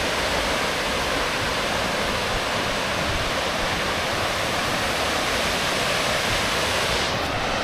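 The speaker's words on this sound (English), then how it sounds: "There's like 40 different waterfalls in this area, and this is probably one of the coolest ones." A 75-foot waterfall at Dry Falls in Highlands, North Carolina, roars as a steady, loud, broadband rush of falling water that stays constant throughout, with no voices.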